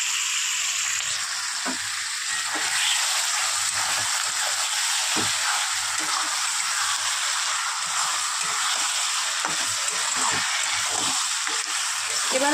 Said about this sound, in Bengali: হয়ে গিয়েছে, এবার ম্যারিনেটেড মাটনটা আমি দিয়ে দেবো।